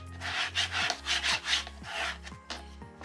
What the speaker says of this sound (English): And then use a bone folder